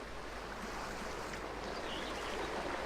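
Slow river current in ArcheAge, a faint, steady wash of flowing water that stays even and continuous throughout with no talking.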